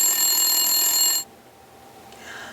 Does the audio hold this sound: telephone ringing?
yes